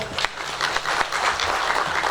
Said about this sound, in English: Really a very big round of applause for our two presenters, plenary presenters this morning.